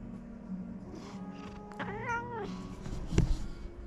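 A cat meows in a drawn-out, wavering call midway, followed by a shorter sharp cry near the end over a low background hum.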